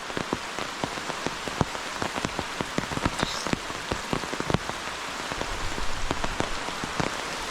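Rain pours down steadily on a nearby surface, with many sharp drips and taps pattering irregularly over a dense hiss.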